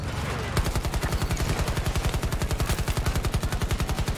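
Rapid automatic gunfire in Battlefield 2042, a fast steady stream of loud shots in even rhythm continuing for several seconds after a brief lull.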